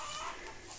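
Chickens clucking at a farmyard by an old house in a rural marsh area of Altinho, Pernambuco, a close, steady burst of fowl calls with no speech.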